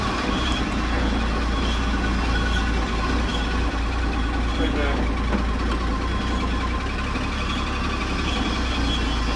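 A restored Willys jeep engine runs roughly on its first drive, a steady low rumbling idle heard up close, with people talking over it.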